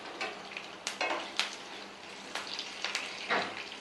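Curry leaves, mustard seeds and broken dried red chillies tempering in hot oil for sambar, a steady crackling sizzle with sharp spattering pops and occasional stirring scrapes of a metal spoon against the pan.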